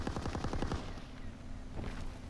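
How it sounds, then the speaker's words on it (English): Rapid automatic gunfire in the World War II shooter Call of Duty: WWII, a quick rattling burst of shots at the start followed by a lingering rumble and a few quieter distant shots, fairly faint overall. "I see gunfire over there."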